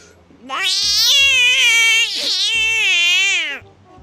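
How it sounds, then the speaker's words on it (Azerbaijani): A hungry cat gives two long, loud, drawn-out meows in close succession, each one rising and then falling in pitch, heard up close. "Bəs ac və çox belə dəhşət yemək axtaran pişik səsi."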